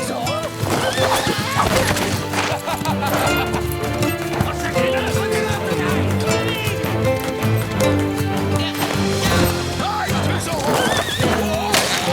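Horses gallop in a busy, loud cartoon scene of hoofbeats and whinnies, with shouting French voices and music layered over the commotion.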